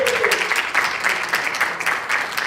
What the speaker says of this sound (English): Can we give Mr. Flores a really big round of applause?